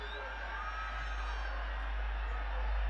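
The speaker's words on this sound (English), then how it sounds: "The crowd's on their feet." A stadium crowd at a Janakpur Bolts versus Sudurpaschim Royals cricket final sends up a sustained, swelling roar of cheering, with a commentator's voice faintly over it.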